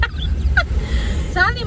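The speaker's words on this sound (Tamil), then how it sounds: "மயில் இது கத்திச்சு பார்த்தல" A peacock on a trip outing gives two short, loud honking calls about a second apart, over a steady low rumble of background noise.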